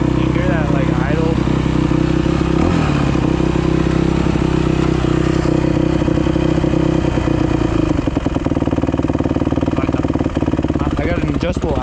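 A Yamaha YZ250F dirt bike engine idles loudly close by with a rough, uneven hanging idle and clattering mechanical knocks, while someone talks over it throughout.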